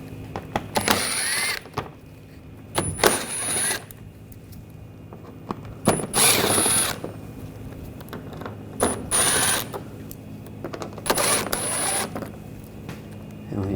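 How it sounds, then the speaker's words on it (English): Ratcheting clicks and metallic turning from a T20 socket backing out screws on a 2014-2020 Nissan Rogue front bumper cover, in several short close bursts separated by pauses. "Using a T20 socket, we're going to take these screws out."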